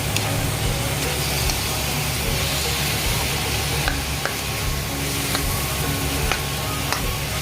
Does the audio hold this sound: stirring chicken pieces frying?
yes